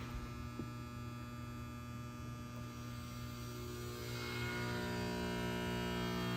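A 2000 amp Udylite PEC 12 volt rectifier hums steadily in an industrial setting, a constant low electrical drone with a faint buzzing overtone that grows slightly fuller toward the end.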